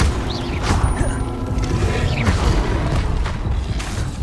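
A Bombarda explosive spell bursts in Hogwarts Legacy, giving a few heavy booming impacts with crashing debris layered over ongoing combat effects.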